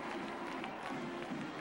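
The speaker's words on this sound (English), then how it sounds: "And that gives that overflow crowd here in Huntington something to cheer about tonight" Overflow football stadium crowd in Huntington cheering a field goal at a 1993 Marshall versus Georgia Southern game, a steady broad roar of many voices with faint clapping, continuous throughout.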